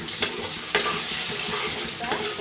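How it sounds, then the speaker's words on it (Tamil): Eggs being stir-fried in a hot pan for chicken fried rice, a steady crackle with occasional scraping strokes, close up and with no talking. "இதை நல்லா கிண்டி விட்டு பொரியல் மாதிரி எடுத்துக்குவோம்"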